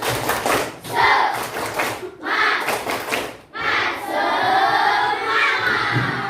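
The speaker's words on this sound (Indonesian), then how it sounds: "Tepuk semangat." A primary school class claps a quick rhythmic pattern together, with bursts of cheering and shouted chanting from many children, loud and close.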